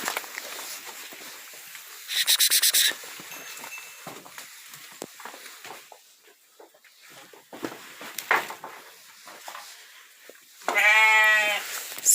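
Goats and lambs bleat loudly and close by in two separate bursts, one shaky and quavering, amid soft rustling and footsteps around the livestock during sheep vaccination.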